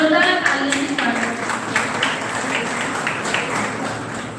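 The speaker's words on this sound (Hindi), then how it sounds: "जोरदार तालियों से स्वागत" Audience at a Teachers' Day event on a Himalayan university campus giving loud applause to welcome a guest, many hands clapping in a dense, sustained roar, with a voice speaking over the start.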